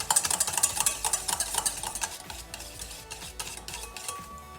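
Red velvet cake ingredients are stirred together in a small bowl, a quick, rhythmic series of close scraping and clinking strokes that slows toward the end, with no one talking.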